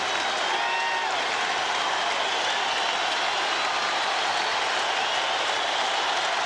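Baseball crowd at Fenway Park during a tied Yankees–Red Sox game in the bottom of the eighth, a dense, sustained roar of cheering spectators filling the stadium at steady loudness throughout, with no clear speech over it.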